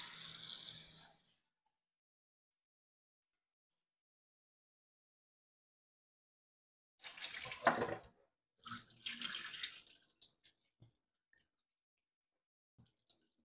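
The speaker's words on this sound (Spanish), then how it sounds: "Y con agua fría la voy a lavar." Cold tap water runs into a large bowl to rinse soaked grains for homemade milk, heard as three separate bursts of splashing with long silent gaps between them, followed by a few faint drips and small clinks.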